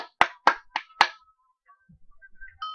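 A few people clap in a short burst of four sharp, separate claps, loud and close, followed by quiet scattered small sounds with no talking.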